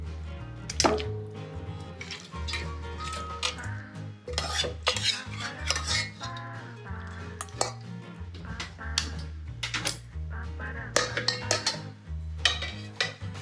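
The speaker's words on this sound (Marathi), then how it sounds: "शिजवलेलं चिकन आपण दुसऱ्या बाउलमध्ये ट्रान्सफर करूया" Cooked chicken is moved into another bowl with a steady run of spoon scrapes, metallic clinks and knocks of utensils against dishes, close and busy throughout with no talking.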